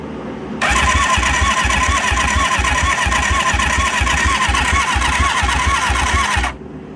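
An engine cranks over during a cylinder compression test with the key on and the throttle wide open: a rapid, even chugging rhythm of compression pulses for about six seconds, loud and close, then stops.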